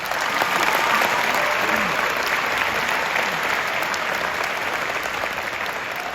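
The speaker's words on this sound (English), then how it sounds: "I think we should all give ourselves a nice round of applause for graduating" Graduates at a high school graduation give themselves a round of applause: dense, loud crowd clapping that holds steady for about six seconds and fades slightly toward the end.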